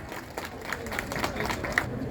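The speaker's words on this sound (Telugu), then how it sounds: "బిగ్ హ్యాండ్స్ ప్రతి ఒక్కరు చప్పట్లు కొట్టండి" Scattered audience clapping at a memorial anniversary event, faint and uneven over a low crowd murmur and voices, lasting only a couple of seconds.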